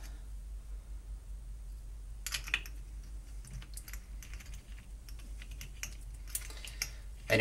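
An IBM Selectric 3 typewriter mechanism is cycled by hand, giving scattered sharp mechanical clicks and ticks that begin partway through and come at irregular intervals over a low steady background hum.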